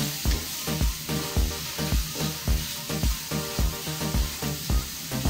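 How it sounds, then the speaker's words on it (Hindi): Vegetables and carrots frying in a pan for fried rice, a steady close sizzle with a rhythmic tapping of a spatula stirring them about every half second. "अब हम इसमें ऐड करेंगे सब्जियां, गाजर डालेंगे, इन्हें भी हम 1 मिनट फ्राई कर लेंगे।"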